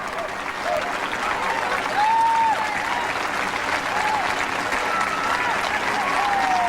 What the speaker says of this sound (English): And a nice reaction from the crowd here at Sun Valley.